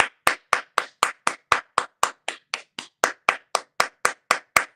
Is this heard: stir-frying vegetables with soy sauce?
no